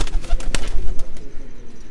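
Close, loud cooing from a crossbred pigeon comes as a string of low, rolling pulses, with a couple of sharper knocks or wing flutters mixed in.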